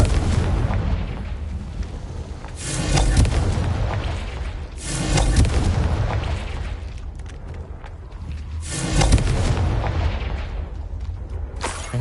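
Three loud, booming fire-spell blasts from the Confringo spell in Hogwarts Legacy, each a sharp burst trailing into a rumbling roar, spaced a few seconds apart over a steady low background.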